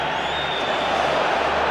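A large rugby stadium crowd at Ellis Park, a World Cup quarter-final between South Africa and Western Samoa, rumbles and murmurs steadily, a broad sustained roar of many voices at moderate loudness.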